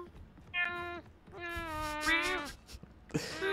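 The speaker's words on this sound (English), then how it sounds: "Got a litter of kitties in here." Cat meowing several times in a row, drawn-out rising and falling calls close by and fairly clear, with short gaps between them, heard during an online shooter match.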